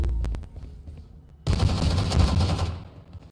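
A few isolated pistol shots crack in a video game, then a dense, loud run of rapid gunfire fills about a second before fading into a low hum.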